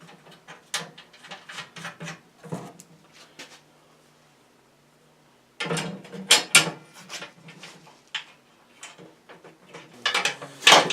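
A hand ratchet snugs new carriage bolts on a mower deck in bursts of quick clicking, with a pause of near silence in the middle before more rapid ratcheting, close by.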